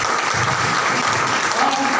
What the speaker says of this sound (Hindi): मैं चाहूँगा एक बार सिस्टम के लिए जोरदार तालियां